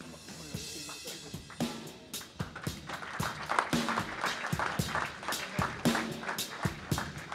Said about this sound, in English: we'll get a last round of applause